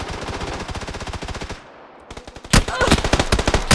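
PUBG gunfire in a video game: fast automatic bursts crackle steadily, break off into a brief pause, then resume louder and denser, with no talking over them.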